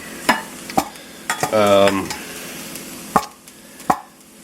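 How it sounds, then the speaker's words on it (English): A mixture of two egg whites with salt and pepper being stirred in a bowl, a handful of sharp utensil taps against the side with a brief whirring scrape of mixing in between, close and clear. "I'm going to throw in 2 egg whites. And I'm going to stir it up."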